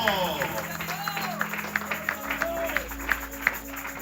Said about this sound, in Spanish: Dale fuerte ese aplauso a Jesucristo